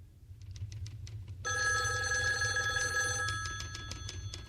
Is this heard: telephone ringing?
yes